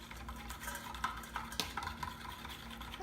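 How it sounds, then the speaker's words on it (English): A spoon stirs a yeast mixture in a bowl for vegan cinnamon rolls, making soft, close scraping and light clinking sounds over a few seconds with no talking. "I'm just gonna stir it a little bit."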